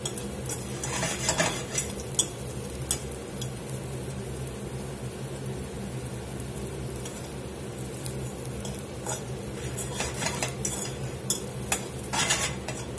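Ham browns in a pan with a sprinkle of Cajun and Creole seasoning, giving a steady close sizzle broken by frequent scraping and clinking as a utensil stirs against the metal.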